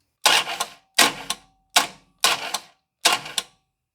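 A torque wrench tightening bolts on a 1984 Dodge D150 truck gives five short, close ratcheting bursts, evenly spaced with brief pauses between them and no talking.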